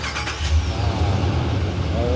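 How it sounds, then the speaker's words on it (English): A 2017 Ram 1500 pickup with a 5.7L gas engine starts up close by, then settles into a steady, deep rumbling idle that fills the whole stretch. "we're going to start her up on the count of three"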